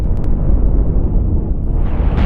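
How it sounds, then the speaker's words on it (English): Cannons firing and explosions in the space combat game Cosmoteer, a dense, continuous roar of booms and rumbling blasts that fills the whole stretch at high volume, with no talking. "Oh, those cannons."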